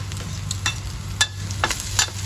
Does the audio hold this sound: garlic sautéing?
yes